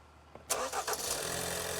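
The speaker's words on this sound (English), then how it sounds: "So go ahead and start the engine, Ian." A Ford Escape engine cranks and catches, firing up with a loud burst and then settling into a steady close idle, with no one talking.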